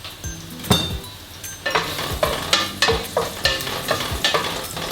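Onion frying in a pan for chicken adobo, a steady sizzle broken by rhythmic scraping and clinking of a utensil stirring against the pan.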